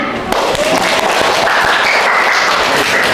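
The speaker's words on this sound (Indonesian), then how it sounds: "tepuk tangan." A classroom group in Indonesia applauds a student group after their presentation, a loud burst of mixed clapping with faint voices mingled in.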